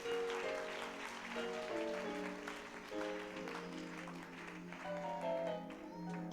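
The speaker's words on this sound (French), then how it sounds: "Clap for God for your whole life." Church congregation clapping during worship, quiet and steady under sustained tonal music or singing, with the rhythmic claps blending into the melody throughout.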